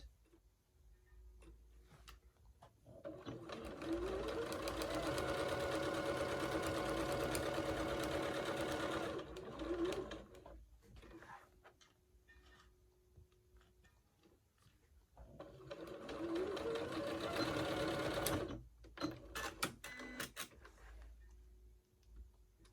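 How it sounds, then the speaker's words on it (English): A sewing machine stitches around a fabric pocket in two runs, a long steady whir and a shorter second burst, separated by quiet handling ticks and clicks, fairly faint overall. "And now we're just going to sew around it."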